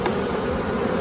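Honey bees around a hive box hum in a dense, steady buzz, close and continuous over a brief moment, with no voices.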